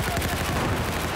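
Rapid automatic gunfire in Battlefield 4 during a competitive 5v5 match, a dense continuous burst of shots filling the whole moment at steady loudness.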